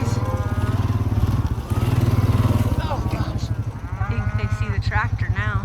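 A farm tractor engine runs close by outdoors on a cold day while cattle are herded for a sale, its rapid, throbbing chug steady throughout as voices call out over it.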